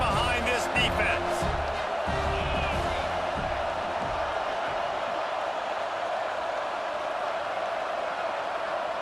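A stadium crowd roars in the NCAA 26 football video game, a loud broad wash of cheering with thumps and shouts early on, settling into a sustained roar.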